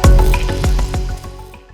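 Sonified data from the black hole at the centre of the Perseus galaxy cluster, shifted up into audible range: loud, low, eerie swells with repeated pulsing strikes and faint high tones, fading toward the end, no voices.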